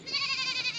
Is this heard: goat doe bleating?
yes